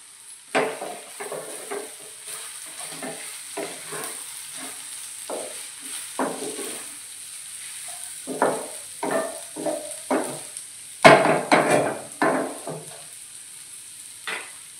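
Thick Maharashtrian tomato chutney is stirred in a pan with a spoon, giving irregular scraping and soft sizzling strokes in a steady rhythm over a faint hum. No one speaks.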